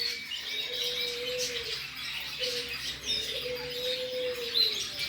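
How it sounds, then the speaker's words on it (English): At a large bird park, a parrot gives two drawn-out, slightly rising calls a second apart, with softer chirps and bird chatter around them at moderate distance. "This is one beautiful bird."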